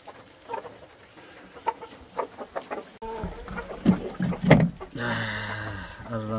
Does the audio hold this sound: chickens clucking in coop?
yes